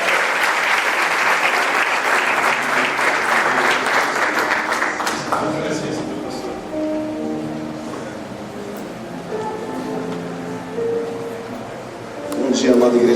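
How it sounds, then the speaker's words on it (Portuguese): A church congregation at a worship and praise congress breaks into loud, dense applause that fades after about five seconds into scattered claps under a voice and music, then swells briefly again at the end. "Você pode aplaudir e glorificar o Senhor"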